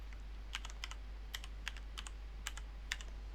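Light, scattered clicking of keys on a computer keyboard, typed in short irregular bursts, quiet and close, over a steady low electrical hum with no speech.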